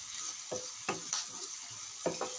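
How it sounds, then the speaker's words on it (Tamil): Dried fish (karuvadu) frying in oil with fennel seeds, a steady close sizzle broken by several sharp stirring scrapes of a spatula, with no talk. "நல்லா ஃப்ரை ஆகட்டும்"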